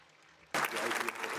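An audience at an HIV care congress breaks into applause for a doctor, a sudden burst of dense clapping that starts after a quiet half second and stays loud and steady to the end.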